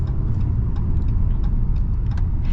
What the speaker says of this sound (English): this truck drives so well.